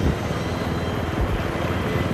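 A helicopter in the video game Battlefield 3 gives off a steady, dense rotor and engine drone, constant and moderately loud, with no voices over it.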